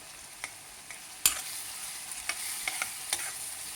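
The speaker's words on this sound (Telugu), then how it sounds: "అన్నీ వేగినివ్వాలి బాగా." Keema and ground spices, coriander powder, turmeric and garam masala, sizzle steadily in a hot pan, a soft continuous fry broken by a few sharp crackles and spoon stirs, with no voices.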